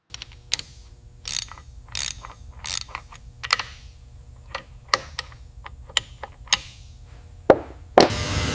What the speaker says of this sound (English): We're carefully torquing the bolts on the propulsion manifold